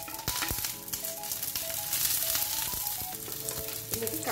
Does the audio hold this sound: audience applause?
no